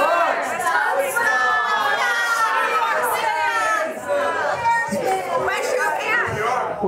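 A live audience at a show shouts out names of places all at once, a loud overlapping roar of many voices that holds steady throughout.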